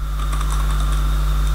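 Steady keyboard typing while C++ code is entered on a computer, with quick, evenly spaced key clicks running continuously and close by under a constant low electrical hum.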